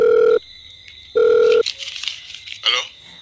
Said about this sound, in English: Mommy, mommy, the phone ringing